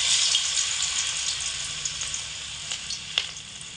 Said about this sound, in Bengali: এখানে আমি কড়াইতে সাদা তেল দিয়ে দিয়েছি এবং আঁচটাকে মিডিয়াম আঁচে রেখে পকোড়াগুলোকে ভেজে নেব।